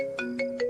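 Phone ringtone heard during an outgoing call, a short repeating electronic melody of three tonal pulses, clear and steady with no talk.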